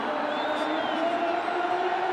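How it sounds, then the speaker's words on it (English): A cricket crowd at a PSL 2017 playoff between Karachi Kings and Peshawar Zalmi applauds and cheers in a steady, distant roar that fills the stadium, with no clear voices on top. "What an applause."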